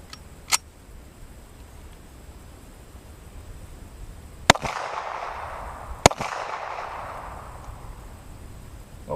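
A handgun fires 230-grain .45 ACP rounds at a polyurea-coated target outdoors, with three sharp, loud cracks spaced seconds apart, each followed by a brief echoing decay.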